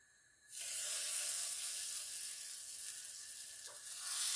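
Flatbreads are dropped into a hot buttered pan and break into a loud, steady sizzle right after a brief quiet start, crackling and hissing up close with no talking.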